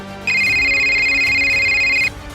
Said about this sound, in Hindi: तभी वीर के पास डॉक्टर खुराना का फोन आ जाता है।